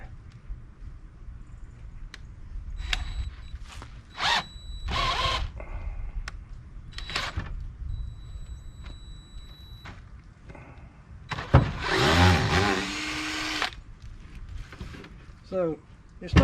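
A 1/2 inch DIY electric drill drives a cone splitter auger into a log, its motor whining and straining in short bursts, with a longer loud grind near the end. People talk in between.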